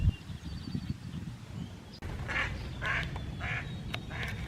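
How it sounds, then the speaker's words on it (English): A female mallard duck quacks at a small pond in a park on a spring morning, a few soft bursts in the second half of the clip over low outdoor ambience, fairly close. "I see a female mallard duck."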